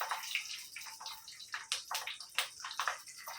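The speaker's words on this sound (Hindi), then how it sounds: "अभी ये मिर्ची फ्राई करेंगे।" Thick green chilies frying in oil in a home kitchen make a quiet, uneven crackle, with sharp sputtering pops scattered across a light hiss.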